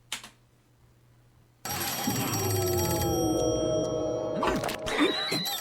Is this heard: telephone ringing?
yes